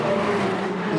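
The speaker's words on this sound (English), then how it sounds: "the number 8 comes across the line" Audi's number 8 race car crosses the line at the 2016 6 Hours of Fuji endurance race, a loud, steady engine roar that holds unbroken through the whole moment.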